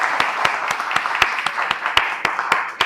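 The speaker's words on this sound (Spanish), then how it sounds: "Por favor, le damos un aplauso" A crowd claps for a Quito painter standing up at an event, a steady bed of dense hand claps with sharper individual claps cracking through at a quick, even pace, loud and close, no voices over it.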